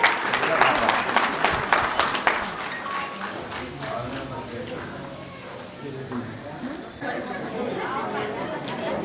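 A crowd claps for students' parents at a Guru Ravidass temple birthday celebration in Samba. The applause is strongest at first and fades into murmuring chatter and voices.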